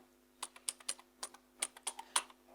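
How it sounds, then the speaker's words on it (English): A pip install command is typed on a computer keyboard: about a dozen crisp key clicks in quick, uneven bursts, close and clear against a quiet background hum. "just type in pip install Matplotlib"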